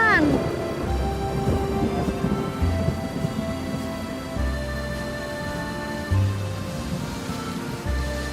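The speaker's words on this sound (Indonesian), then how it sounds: "Kak hujan." Rain falls steadily through the whole stretch, with low rumbles like thunder rolling underneath and some tonal background sound layered over it. It is a moderate, continuous wash with no talk.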